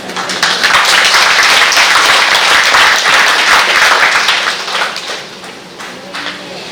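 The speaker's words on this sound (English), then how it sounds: "May I kindly ask that we please give another big round of applause" Sustained audience applause at an International Women's Day event, a loud wash of clapping from many hands that holds steady, then thins and fades toward the end.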